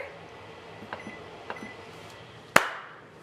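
An oven timer being set while baking a plant-based peach dessert gives a few faint soft taps, then one sharp, loud beep near the end of a quiet kitchen.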